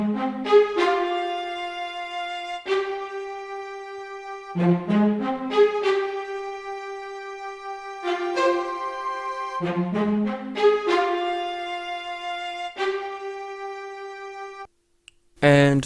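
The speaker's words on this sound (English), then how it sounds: "I decided to add a Violin Spiccato from Orchestral Adderall, and also to layer it with another spiccato string from Expand" Layered violin spiccato strings from Orchestral Adderall and Expand play short bouncing notes in repeated rhythmic bursts over an R&B sample, a few held tones between figures, close and clear, with a sudden cut near the end.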